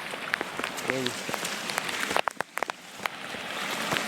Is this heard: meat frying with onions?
no